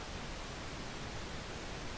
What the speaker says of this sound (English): the pink noise sound flat on your system.